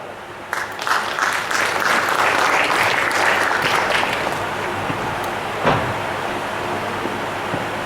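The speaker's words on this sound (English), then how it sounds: "Welcome CEO with a clap." An audience at a SACCO members' education meeting claps to welcome the CEO, a thick burst of applause rising quickly, holding strong for several seconds, then thinning out with a single loud knock near the end.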